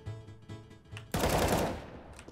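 Gunfire rattles in a competitive bomb-planting shooter game: several quick bursts of close shots, then a loud, sustained blast of fire that gradually fades, with no talking.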